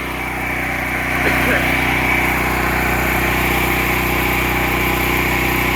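A small portable generator drones steadily and loudly under load while it powers a heater, its constant engine hum continuous from start to finish.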